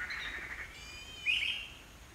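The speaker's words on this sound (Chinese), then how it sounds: "现在很珍惜听鸟叫。" Birds chirp in a quiet forest, a couple of thin whistled calls and a brighter warbling trill that rises near the middle, moderately close over faint background ambience.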